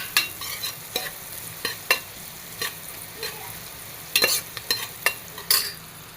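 Onion sautéing and being stirred in ghee and oil with cinnamon, cloves and cardamom, with a soft sizzle under repeated sharp scrapes of a spoon against the pan, no talking.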